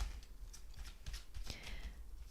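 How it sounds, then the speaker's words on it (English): Tarot cards being shuffled by hand in a quiet room, a soft continuous riffling and flicking with faint papery snaps throughout, fairly close and low in level, with no talking. "But sometimes we need a good shuffle in between."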